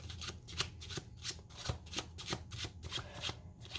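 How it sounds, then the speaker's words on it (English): A deck of playing cards gets a close overhand shuffle, with rapid rhythmic slaps and riffles repeating evenly throughout and no talk. "give that an overhand shuffle, give it another overhand shuffle"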